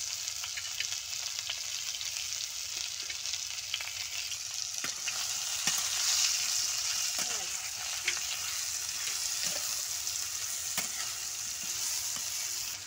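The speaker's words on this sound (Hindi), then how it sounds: "अब हम इसमें फ्राई किए हुए कुंडू डाल रही हूँ।" Pre-fried ivy gourd (kundru) tossed into a pan with tomato for a spiced potato and kundru curry, frying with a steady loud hiss and scattered crackles and stirring taps, no talk.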